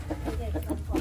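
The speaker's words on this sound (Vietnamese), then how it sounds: "Trong đây có gà." Several short, low clucks from a chicken, spaced in a loose rhythm, fairly close and moderately loud.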